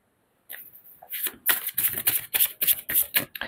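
Tarot cards are shuffled and drawn in a quick series of crisp, close riffling and slapping bursts after a brief silence, with no talk.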